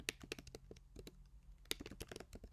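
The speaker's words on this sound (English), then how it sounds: "Ooh, terrible typing here, but you know what I mean." Irregular clicking of keys on a computer keyboard while coding a Minesweeper game, a steady patter of close, moderately loud keystrokes with uneven rhythm and no talking.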